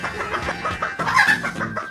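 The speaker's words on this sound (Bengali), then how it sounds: "একটার পর একটা মুরগি বের হতে হতে পুরো ঘর মুরগি দিয়ে ভরে যায়" A room full of chickens clucking and squawking together, a dense, continuous flock chatter with a few louder hen calls rising above the din, close and lively throughout.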